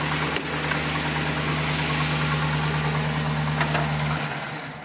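A Chevrolet Silverado (2007–2013) engine idles after a remote start, a steady low rumble close by that holds evenly and then fades near the end.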